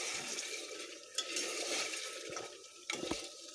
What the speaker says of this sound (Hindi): इसको हम और हिलाएंगे, बस उसके बाद हम पानी ऐड करेंगे।